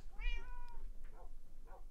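A cat meows in a Minecraft farm world, two or three short, clear mews in quick succession, close and alone with no talk over them.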